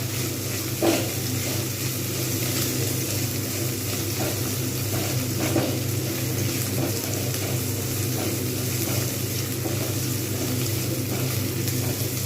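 Onions frying in a pan for a Bengali kochur dum (taro curry), a steady even sizzle filling the whole stretch with faint stirring ticks, close and continuous with no talking.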